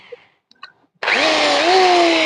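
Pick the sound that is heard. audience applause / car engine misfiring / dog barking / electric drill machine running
electric drill machine running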